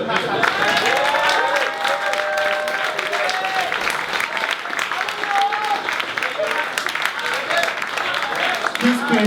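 A cabaret-style show audience applauding steadily and fairly loudly, a dense wash of clapping with some cheering and crowd noise running under the whole stretch.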